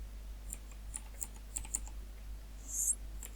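Fingers type on a computer keyboard in a short burst of quick, light, irregular key clicks, close and fairly quiet, with no speech.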